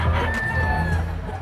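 Chickens, including crossbred pullets, at a poultry hobby expo cluck and crow up close in a short burst, with a busy background behind them.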